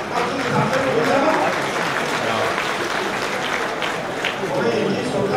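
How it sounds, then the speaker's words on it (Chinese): An audience claps continuously, a dense, steady wash of applause from a crowd at a business gathering, filling the whole stretch at moderate loudness with a slight dip near the end. "掌声掌声掌声。"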